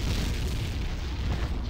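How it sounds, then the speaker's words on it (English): Missile explosion hitting the player in a video game, a dense, sustained rumbling boom with heavy low-end roar filling the short moment, loud and continuous. "I'm gonna get hit with the missile."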